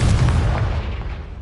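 Confringo fire blast spell from the video game Hogwarts Legacy: a loud, close, rumbling explosive burst with a heavy low boom that decays over about a second and a half.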